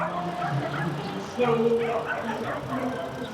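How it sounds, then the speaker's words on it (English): A pack of dogs barking and yipping below a long bridge in Taiwan, heard from a bicycle crossing above, with scattered barks and whines at moderate distance under steady background noise. "Big pack of dogs down there."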